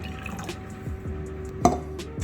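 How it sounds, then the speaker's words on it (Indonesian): Water trickles and drips into a metal can during a Stirling engine experiment, a steady faint pour with small splashes and one sharper clink. "kita masukkan air dengan jumlah yang sudah ditentukan ke sebuah kaleng"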